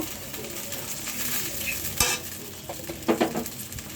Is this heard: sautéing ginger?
yes